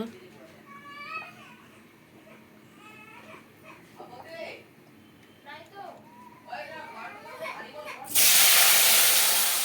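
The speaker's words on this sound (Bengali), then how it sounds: "এখন আলু দিয়ে দেব" Potatoes hit hot oil in a wok that was just used to fry katla fish, setting off a sudden loud, steady sizzle near the end, after several seconds of children's and adults' voices over quiet background noise.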